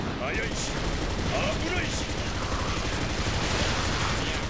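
Dense, continuous gunfire from the PS5 action game Basara 4 Sumeragi, rapid shots layered over loud game effects and music with no pause throughout.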